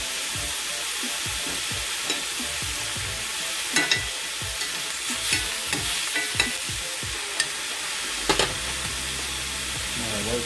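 Ahi tuna sizzling in a hot pan after being flipped, a steady loud frying hiss with scattered crackles and pops, plus occasional sharper clicks from stirring or utensil contact.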